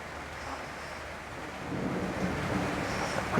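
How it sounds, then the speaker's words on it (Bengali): Steady rain falling outdoors at a rural home where Chinese ducks are kept, a continuous broadband hiss that swells slightly louder in the second half, with no talking. "বললাম এখন বৃষ্টি হয়েছে"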